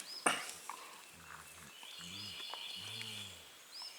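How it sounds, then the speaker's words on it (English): A dog lying on its back and rolling around lets out low, drawn-out groans in a few short bursts, quiet and close, after a sharp knock at the start. "if you can hear that groaning, that's my dog laying on his back"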